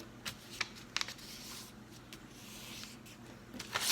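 A piece of paper being folded and creased up close, with soft crinkling rustles and a few sharper crisp taps, quiet and without talk.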